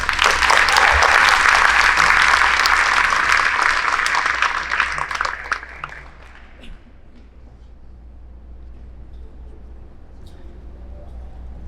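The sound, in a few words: applause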